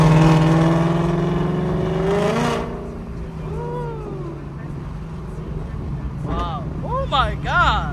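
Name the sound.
2021 Ford Mustang GT engine revving with headers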